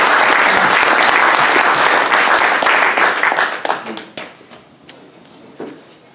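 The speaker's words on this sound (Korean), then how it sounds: "우리 장로님에게 커다란 박수 부탁드립니다" Loud, dense applause from a church audience honoring an elder at a gospel gathering, a sustained wash of many hands that thins out and fades, with a few scattered late claps near the end.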